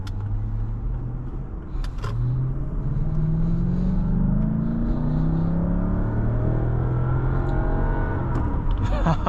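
A 2007 Lexus LS 460 engine revs up and accelerates past 3,000 RPM, a loud, continuous rising drone heard from inside the car with a few light clicks and no talk.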